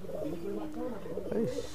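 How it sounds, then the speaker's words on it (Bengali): A male Madrasi highflyer pigeon, about 1.5 years old, coos in low warbling rolls close by, while a person talks softly underneath. "হ্যাঁ এটা নর পায়রা।"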